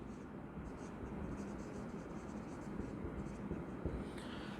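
Handwriting an accounting equation with a pen, a steady continuous scratch of strokes on paper, close and fairly quiet, with faint speech-like murmur in the background.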